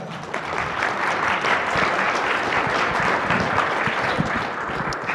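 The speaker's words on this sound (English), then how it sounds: "a round of applause for our panel" An audience at a product marketing summit gives a panel a round of applause, a full, steady burst of many people clapping that holds for about five seconds.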